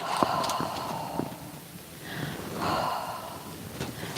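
Horses being fed outdoors on a chilly evening move close by, giving several sharp snorts and breathy exhales, with soft shuffling and hoof movement between them.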